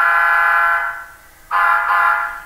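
A P5A air horn produced by a Tsunami2 model train sound decoder blasts loud and steady, dips briefly, then sounds again in a second strong blast.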